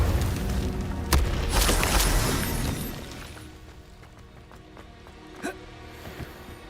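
A spell cast in Hogwarts Legacy bursts as a loud crackling, shattering blast that fades over a few seconds, with a couple of sharper pops afterward.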